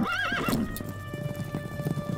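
A horse gives a high, wavering neigh up front, then its hooves clip-clop in a steady rhythm close by, with no one talking.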